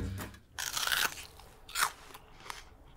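Crisp crunching bites into a raw red onion, a few sharp crunches spaced apart followed by quieter chewing, close and fairly soft.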